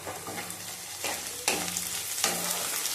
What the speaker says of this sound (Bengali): পেঁয়াজটা লাল লাল করে ভাজা হয়ে গেছে। এর মধ্যে ক্যাপসিকাম দিয়ে দেবো